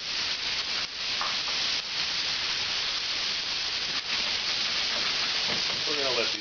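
Onions and carrots sizzle in a hot pan, a dense bright hiss running the whole time, with brief faint voice sounds near the end.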